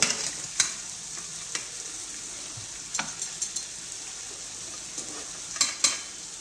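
Boiled rice stuffing for calamari mixed in a pan: irregular spoon clinks and scrapes over a soft, constant sizzle, with a cluster of sharper taps near the end.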